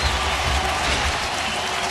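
Baseball stadium crowd during an A's home game against the Angels in Oakland, applauding steadily in a broad, distant wash of clapping and crowd noise.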